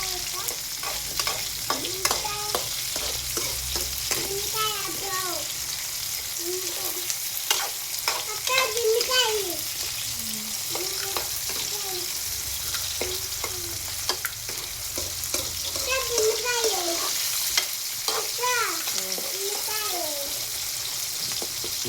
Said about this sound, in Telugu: ఆనియన్స్, టమోటాస్ రెండు కలిపి వేసుకోవాలి ఫ్రెండ్స్. బాగా కలుపుకోవాలి.